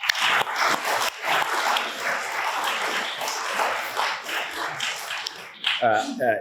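A civic audience at a city State of the City presentation claps in a sustained round of applause, dense and steady for several seconds before tapering off.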